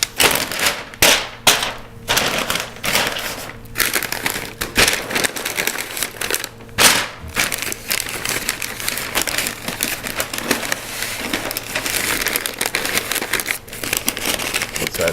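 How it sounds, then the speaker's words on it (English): Butcher paper crinkles loudly and close as it is folded and wrapped around a smoked Texas-style brisket, a run of irregular rustling bursts and crackles with a steady low hum underneath. "We're gonna get it wrapped in this butcher paper"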